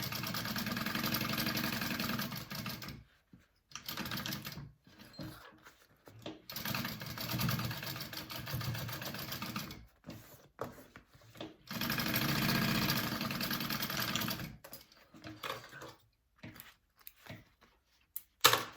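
Sewing machine basting three sides of fabric together for a bag, heard close in several bursts of rapid, steady stitching chatter with short pauses between runs and no voice.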